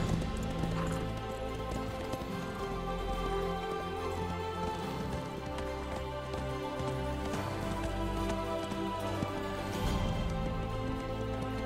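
Several horses gallop with a steady, dense clip-clop of hooves under a full layer of orchestral film score, the hoofbeats partly masked by the music throughout.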